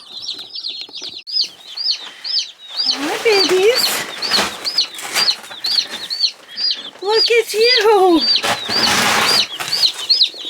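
Newly arrived Cornish cross meat bird chicks peep in a rapid, high, steady chorus close by, while a person talks softly over them.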